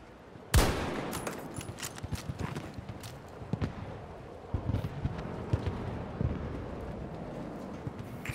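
A single loud, sharp sniper rifle shot cracks out early in a Battlefield 2042 match, then fades into a rumbling tail as quieter scattered impacts and distant battlefield noise follow.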